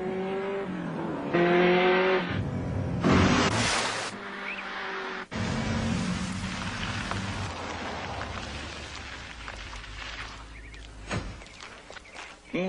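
A Porsche 928 S4 sports car passes with loud engine revving and bursts of acceleration, then a sharp thump and a fading drive-away with road and tire noise.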